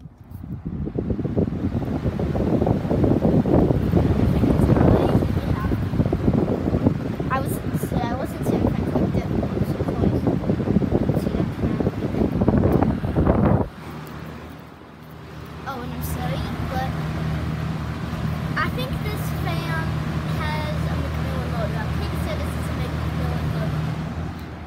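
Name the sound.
Lakewood vintage box fan running on high speed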